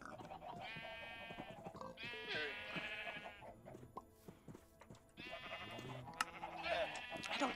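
Sheep bleating in the Minecraft video game, several quavering bleats in short bursts, overlapping and repeating over a couple of seconds, moderately loud with brief gaps between calls.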